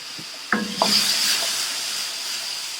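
Onion, tomato and curry leaves frying in a pan for a South Indian mutton gravy, with a couple of stirring clatters early on and then a steady close sizzle running throughout.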